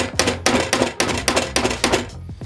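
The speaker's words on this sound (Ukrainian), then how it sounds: "Я реально вже так добряче б'ю молотком." A hammer strikes a cordless flashlight body repeatedly, about eight sharp, loud knocks in a quick uneven rhythm, close by and with no voices.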